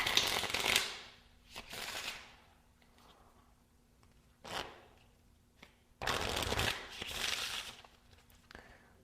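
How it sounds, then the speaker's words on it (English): Playing cards are shuffled using the Hugh Scott shuffle in several quick riffling bursts with short pauses between, close and fairly quiet. "So this is the Hugh Scott shuffle, one of my favorite shuffles to do"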